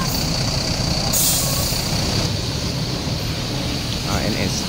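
A Putra Raflesia Bengkulu bus pulls away with air brakes, a sharp hiss of released air cutting through a steady low engine rumble, while people talk nearby.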